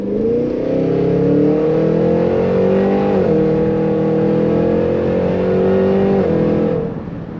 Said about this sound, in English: You can hear a lot more of the blower now because we have a pulley and stuff on it